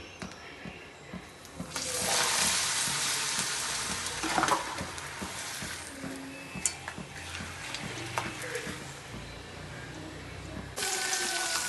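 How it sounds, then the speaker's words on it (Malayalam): Fish sizzles in hot oil already used for frying papadam, a steady broad hiss with scattered pops and crackles that swells near the start and stays fairly loud throughout, with no talking. "പപ്പടം പൊരിച്ച അതേ എണ്ണയിൽ തന്നെ ഞാൻ നങ്ക് പൊരിക്കുന്നു"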